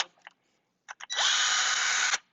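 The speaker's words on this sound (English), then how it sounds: "drill halfway in" A power drill bores a hole in a small wooden box. A few quick trigger bursts come first, then the motor whines up into a steady, close, loud drilling sound lasting about a second.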